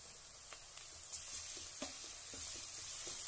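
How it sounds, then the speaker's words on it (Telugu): Ginger garlic paste frying with onions in a pan, a soft steady sizzle with occasional sharp taps and scrapes of a spoon stirring, close and quiet, without voices. "ఈ అల్లం వెల్లుల్లి పేస్ట్ కొంచెం బాగా ఫ్రై అవ్వాలి."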